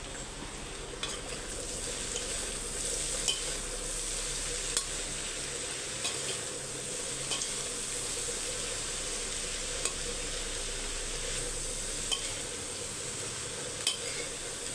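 Onions sautéing together with greens in a pan, a steady soft sizzle with occasional light clinks of a spoon against the pan at regular intervals, fairly quiet and without talk.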